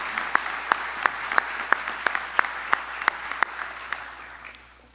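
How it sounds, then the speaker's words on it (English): An audience at the 2024 Columbia enshrinement ceremony applauds honoree Shauna West with steady clapping that carries a few sharp, distinct claps on top, then fades away toward the end. "How about a round of applause for Shauna West?"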